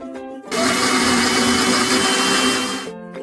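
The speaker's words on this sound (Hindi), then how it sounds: "इसको मिक्सर में ग्राइंड कर लेते हैं" A mixer grinder blends coriander and garlic into green chutney with a loud, steady electric whir that starts abruptly, runs for about two and a half seconds, then cuts off.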